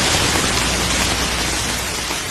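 Heavy rain falls in a dense, steady, even hiss that fills the whole clip, loud and unbroken, with no voices.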